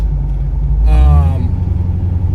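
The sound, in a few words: modified Porsche 928 engine while cruising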